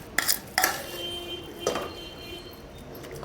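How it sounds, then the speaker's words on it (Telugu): A metal spoon clinks against a cooking pot as mashed cooked lentils go in for hotel-style sambar, a few sharp close knocks followed by softer scraping. "ఇప్పుడు ఇందులో ఈ పప్పు వేసేద్దాం"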